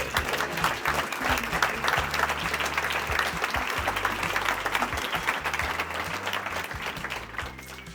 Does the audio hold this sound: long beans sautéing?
no